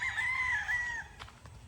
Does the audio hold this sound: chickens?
yes